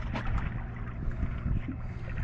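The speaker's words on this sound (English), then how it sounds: "we always keep the engine running" A fishing boat's engine idles while the vessel sits at anchor, giving a dense, steady low rumble with watery sloshing and a rough, churning texture throughout, close and continuous with no voices.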